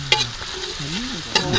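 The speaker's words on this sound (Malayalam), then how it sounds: "ചൂടായ വെളിച്ചെണ്ണയിലും ഫുള്ള് സാധനങ്ങൾ നല്ലോണം ഫ്രൈ ആയിട്ട് വന്നുകൊണ്ടിരിക്കുക കേട്ടോ" Shallots and curry leaves frying in hot coconut oil for Kerala-style country chicken varutharachathu, a continuous sizzle with two sharp utensil scrapes or clinks and a faint voice-like hum underneath.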